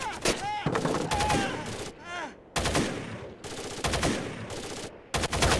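Bursts of rapid gunfire in the video game Rainbow Six: Vegas 2 crackle in close succession, broken by short pauses, with voices shouting in between.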